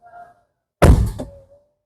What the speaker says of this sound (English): So watch what happens when I close the door of the car.